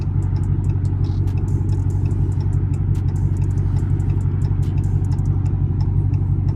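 A Chrysler 300C AWD with a Hemi engine drives at night, a steady low engine drone and road rumble heard from inside the cabin, with faint ticks and rattles above it.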